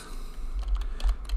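Typing on a computer keyboard while entering Python automation input for switch ports, a quick run of light, close keystrokes over a low rumble, no talking.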